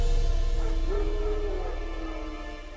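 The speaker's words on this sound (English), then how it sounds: "No. Wild dogs." Wild dogs bark and whimper in The Witcher 3 video game, with a few yips and barks in the distance over a steady low ambient rumble that slowly fades.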